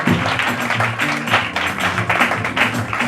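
A church congregation at a worship service applauds steadily, with dense continuous clapping running throughout alongside sustained low musical tones.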